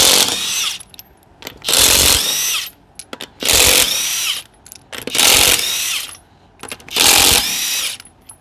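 A Matco 900 ft-lb impact wrench hammers at a wheel nut in four loud, close bursts of rapid rattling impacts, each lasting about a second, separated by short pauses.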